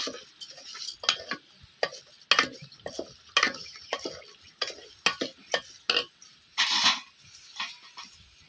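A mutton biryani mixture is stirred in a pot, with irregular scraping and clinking strokes of a spoon against the metal, each one distinct and close, and a faint sizzle underneath.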